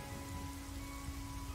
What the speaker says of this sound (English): We have rain.